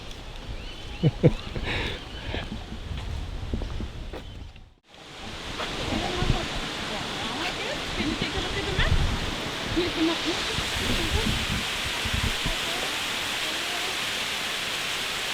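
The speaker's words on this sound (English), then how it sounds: "We're looking at section of Cedar Creek Falls there. It's not flowing very strongly or very heavily at the moment" Cedar Creek Falls flowing weakly, a steady broadband rush of falling water heard nearby, with a brief cut and some faint voices early on before the even wash resumes.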